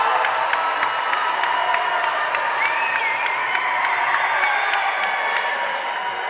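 An arena crowd cheers and claps at a men's college basketball semifinal as the game ends. Loud, sustained roar with whoops, shouts and scattered sharp claps, steady throughout with no break.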